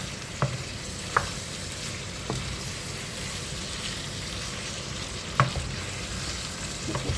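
Courgette and chicken sizzle steadily in a pan seasoned with Royco, a constant frying hiss broken by a few light taps and scrapes of a spoon as it is stirred, close by.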